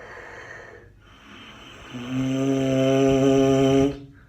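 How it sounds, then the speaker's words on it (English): Slow breathy air through the lips gradually quickens until the lips catch and buzz in a low, steady flapping drone, then it cuts off. "after a little bit, it was fast enough that the lips started vibrating"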